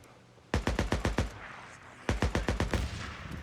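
Two quick bursts of automatic gunfire from the video game Days Gone, about six sharp shots each with a short pause between, loud and close against a quiet backdrop.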